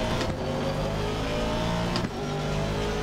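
Race car engines in Assetto Corsa Competizione drone loudly and continuously, a BMW, McLaren and Aston Martin running together with layered harmonic whine and a short dip in revs.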